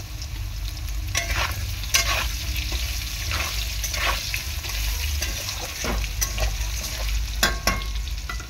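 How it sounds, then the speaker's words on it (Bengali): Potatoes frying with salt in a pan, stirred often: a steady, close hiss of hot oil broken by repeated scraping strokes of the spatula, with no talking. "আলুটা প্রথমে একটু লবণ দিয়ে আমি কষিয়ে নেব।"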